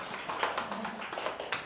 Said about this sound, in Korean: 자, 박수 한번 드릴까요?